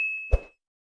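A notification ding sound effect gives a single soft, clear chime that rings briefly, then a short dull plop-like knock, then silence.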